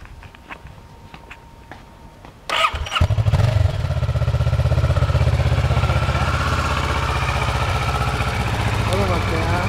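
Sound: motorcycle engine idling

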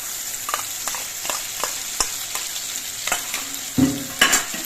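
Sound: sautéing spices with poppy seed and cashew paste

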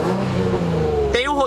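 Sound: Nissan 350Z engine revving

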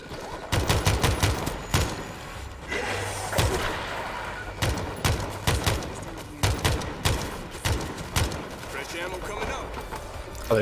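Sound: gunfire in the video game World War Z Aftermath

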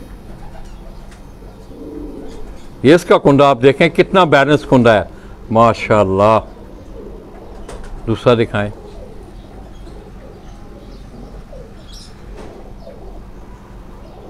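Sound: breeder pigeons cooing on a rooftop

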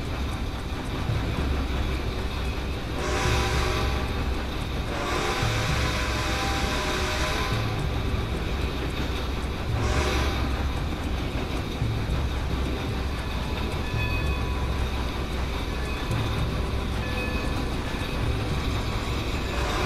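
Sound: train being driven in video game Red Dead Redemption 2

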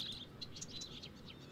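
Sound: bird chirping in video game Life is Strange Before the Storm

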